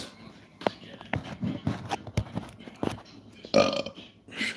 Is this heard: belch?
yes